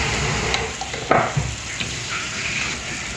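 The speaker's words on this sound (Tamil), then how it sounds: "இஞ்சி பூண்டு போட்டு நல்லா வதக்கணும்" Ginger-garlic paste sautéing in a pan with turmeric and pepper for dal fry, giving a dense, continuous sizzle up close, broken by a few light stirring scrapes, without speech.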